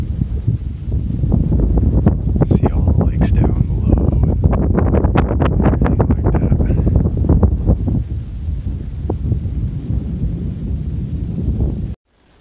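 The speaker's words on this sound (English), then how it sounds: "I know that darn wind is doing a number on us right now, guys." Strong wind roars steadily across a mountain trail on Mt. Eddy, buffeting the microphone loudly and continuously for most of the clip before cutting off abruptly at the end.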